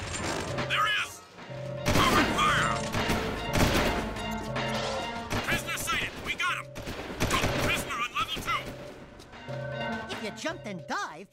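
Heavy gunfire in the Jak 2 video game, dense bursts of shots and impact thuds crowding the scene over a steady music bed, with speech mixed in throughout.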